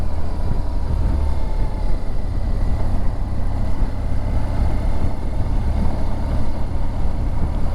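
A vehicle engine drones steadily and loudly throughout a ride toward Glastonbury, with a continuous low rumble and wind-like roar and no voices.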